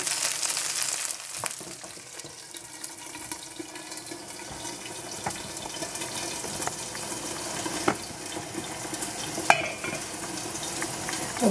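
Tofu cooking in a pan over a small, slow fire gives a faint, steady low sizzle, with occasional soft clicks and taps of utensils.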